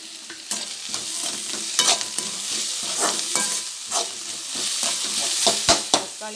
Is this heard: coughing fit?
no